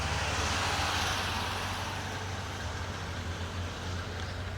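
Steady road traffic rumbles continuously nearby, a broad wash of passing cars at moderate level with no distinct individual pass-bys standing out and no talking.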